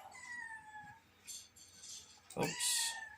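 A pet cat meowing indoors, a couple of thin faint mewing calls followed by a louder, longer meow near the end over a quiet room.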